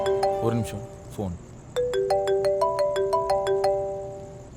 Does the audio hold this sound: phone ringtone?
yes